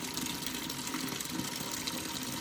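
Water runs steadily into a bucket being filled for a buffalo in a village, a continuous close gushing fill with no talk.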